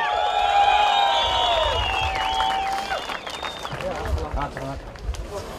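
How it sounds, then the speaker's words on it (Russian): An audience at a fight in Kyrgyzstan applauds and cheers after the bout, a mid-distance wash of clapping mixed with shouting, whistling voices that thins out over several seconds. "Ваши бурные аплодисменты!"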